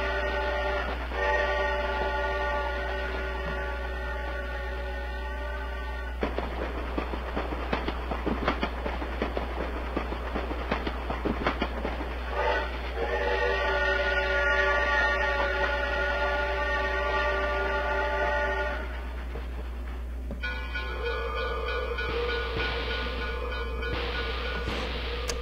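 A train pulls away in the N64 game Shadowman, with a loud rolling rumble and rhythmic clatter mixed with synthetic tonal drones and hum that shift partway through. No voices are heard.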